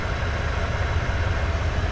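A 2019 Toyota Tundra TRD Pro with a 5.7-liter V8 idles nearby with a steady, deep rumble. It is heard alone for a couple of seconds, without talk.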